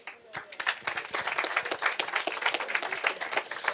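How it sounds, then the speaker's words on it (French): An audience applauds a presenter at a French Tech Day startup pitch competition, lively continuous clapping with some crowd noise and a few voices mixed in. "Je vous laisse l'applaudir."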